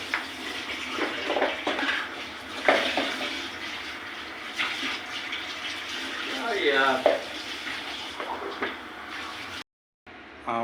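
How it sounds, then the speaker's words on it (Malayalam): Water is poured into a pot of sardine curry being cooked in a room, a running, splashing pour with clinks of the pot, moderately close, while a voice talks intermittently. "അപ്പോൾ ആവശ്യത്തിന് വെള്ളം ഒഴിച്ചിട്ടുണ്ട്"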